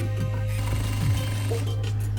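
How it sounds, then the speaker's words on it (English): Sewing machine stitching welt onto a bedspread with Dacron batting, a steady close motor hum with a fast needle rhythm running throughout, with no talk. "Take out pin, combine cuts and sew."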